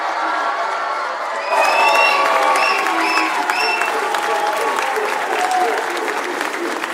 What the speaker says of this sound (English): Please give an applause to Tyon Grant Foster.